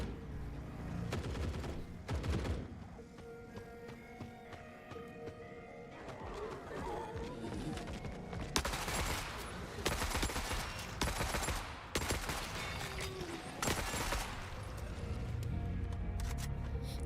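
Gunfire in the video game Forever Winter: loud, dense bursts of shots and rapid volleys follow one another almost without pause, with heavy blasts stacking up throughout.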